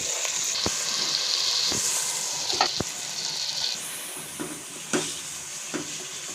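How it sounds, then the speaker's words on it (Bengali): Onion with garlic paste and ginger paste sautéing in a pan for chicken biryani, a steady sizzling hiss throughout with occasional sharp clicks and scrapes of stirring, close and moderately loud, no voices. "রসুন বাটা এবং আদা বাটা দিয়ে ভালো করে কষিয়ে নেব"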